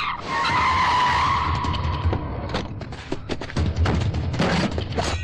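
Car tires skid and squeal loudly as a car pulls away in a Hindi-dubbed action film scene, a long screech followed by thumps and rumbling engine noise.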